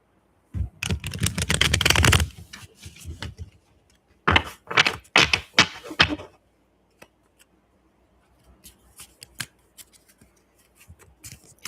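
A deck of tarot cards being shuffled by hand in repeated bursts of riffling and flicking, with quiet pauses and small shuffling taps between them. The sound is close and moderately loud, and nobody speaks.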